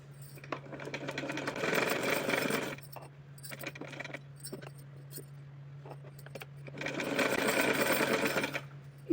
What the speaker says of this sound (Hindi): इसी तरह से किनारी को हम लॉक करेंगे और लॉक करके पूरे पट्टी की सिलाई करके इसको कंप्लीट करेंगे।